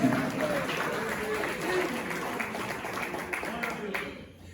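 A church congregation bursts into broad, dense clapping that fills the room, with voices mixed in, before the applause thins and fades away at the end.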